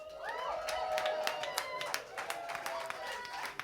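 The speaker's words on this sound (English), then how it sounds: "Can we have a huge round of applause to all of your beautiful mothers?" A crowd claps in a brief burst of applause with some cheering, moderately loud and fairly distant.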